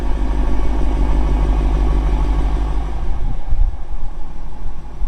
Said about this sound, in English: number 2 on this has to be the V8, baby, the exhaust note. I mean, hopefully you can hear it just at idle here.